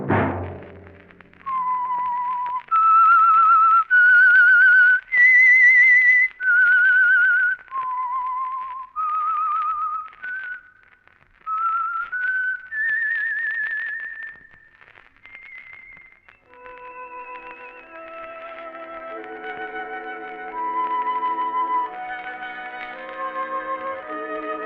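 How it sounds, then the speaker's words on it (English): The whistled theme of The Whistler, a 1948 Signal Oil radio drama, rises and falls as a loud, echoing solo melody of sustained notes. It ends in softer, overlapping orchestral-like tones. "Let that whistle be your signal for the Signal Oil program, The Whistler"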